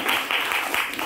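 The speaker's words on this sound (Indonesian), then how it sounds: "beri tepuk tangan untuk teman kita" An audience applauding a classmate in a classroom setting, a short burst of dense, steady clapping from many hands.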